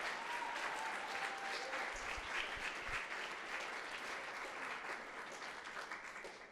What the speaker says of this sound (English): Yeah, round of applause for the advisor network.